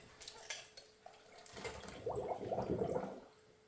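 Water gurgles and sloshes as it fills foam bowls held inside a bag, close and fairly quiet, with small splashes and bubbling that grow busier toward the end.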